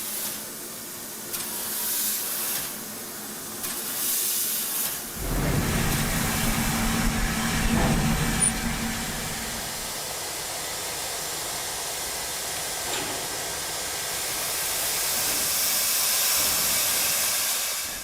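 A steam locomotive hisses loudly and continuously nearby, with a broad, roaring gush of steam that swells and holds throughout, under a low rumbling undertone.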